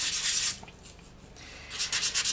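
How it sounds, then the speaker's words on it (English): Resin earrings being sanded by hand with 400-grit sandpaper, heard up close as short bursts of hissing, scratchy rubbing strokes separated by a brief pause. "you also do want to give the front just a light sand"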